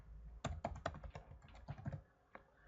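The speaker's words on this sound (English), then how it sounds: "all I have to do is type in here what I want to actually say" Irregular clacking keystrokes on a computer keyboard as text is typed into photo-editing software, a close burst of taps with short pauses, no talking.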